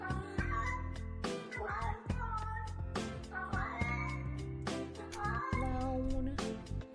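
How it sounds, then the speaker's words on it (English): A cat meows repeatedly in a loud, busy indoor scene, its cries mixed with music and other sound throughout. "Gotta wake everyone up with a meow."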